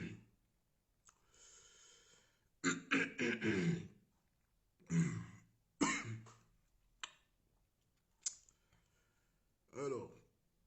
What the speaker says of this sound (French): J'ai une toux qui me fatigue